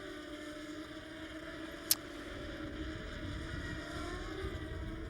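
A 2008 Formula Renault 3.5 Series race car accelerating out of a chicane at the Nürburgring: a faint, distant, steady engine drone with one brief click partway through.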